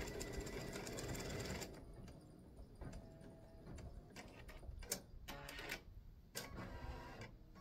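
A sewing machine stitches felt game pieces, its fast steady mechanical whir and rattle running continuously at moderate level, with a few sharper clicks later on and no talking.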